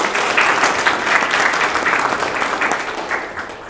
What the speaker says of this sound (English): Let's give them a hand clap for God.